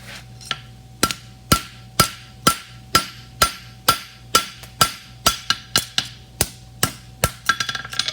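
A hammer strikes hot metal on an anvil while forging a toe bend for a roadster build, sharp ringing blows landing in a steady rhythm about two per second, close and loud, with a faster cluster toward the end.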